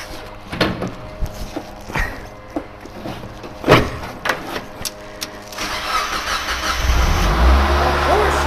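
A Mazda Miata spec race car engine is cranked and fires up near the end, settling into a loud, close idle after a series of sharp mechanical clicks and clunks, with someone talking over it.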